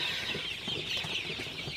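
Sonali super hybrid chickens on a farm at night cluck softly and steadily, a close flock murmuring against a constant hiss.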